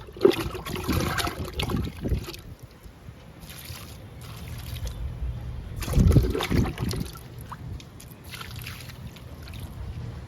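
Liquid fertilizer is poured onto a kagada jasmine plant in a home garden, heard as gentle splashing and trickling in a couple of bursts, with quieter dribbling in between.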